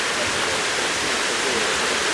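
Steady rushing roar of falling water from a small mountain-fed waterfall at Niška Banja, dense and continuous, close by, with no voices.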